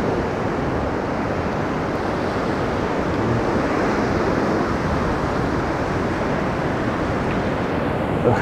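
Sea waves wash ashore at Anapa in windy winter weather, a continuous loud rush of surf mixed with gusting wind across the microphone and no voices.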